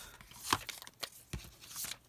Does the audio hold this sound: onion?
no